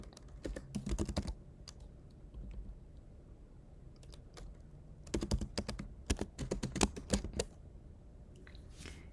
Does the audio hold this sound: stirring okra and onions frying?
no